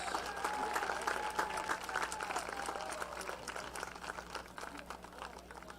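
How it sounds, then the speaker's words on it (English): Steady applause from a crowd in a large room honoring a senior before a Penn Cambria versus Richland high school game, sustained and moderately loud, tapering slightly toward the end. "A round of applause for senior Nathan Kniss."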